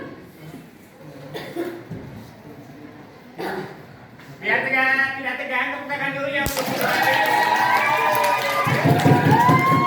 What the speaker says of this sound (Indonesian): Biar tidak tegang, tepuk tangan dulu